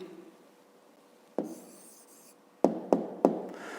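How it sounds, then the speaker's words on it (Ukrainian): A pen writes an answer for a fifth-grade maths exercise: a sharp tap and a short scratchy stroke, then three crisp taps in quick succession against a quiet room. "Пишемо відповідь."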